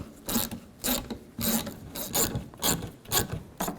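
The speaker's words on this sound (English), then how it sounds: "And take a 7mm socket. There's 3 screws. Take those out." A 7mm socket on a ratchet backing out the three screws holding the gas door on a 2007-2016 GMC Acadia, a loud close rasping ratchet repeated in steady strokes with short pauses.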